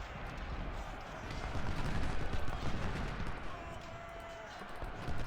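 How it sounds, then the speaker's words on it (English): Artillery guns fire across a Civil War battlefield in Ultimate General Civil War, a low, rumbling barrage of distant booms and crackle running steadily under faint background noise. "My other guns are getting into position and firing now too."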